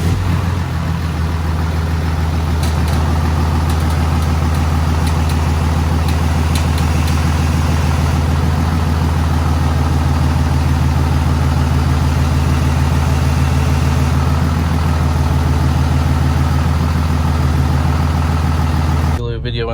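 A RAM truck engine idles steadily up close, a deep even rumble with a low droning hum that holds constant for nearly twenty seconds before stopping abruptly.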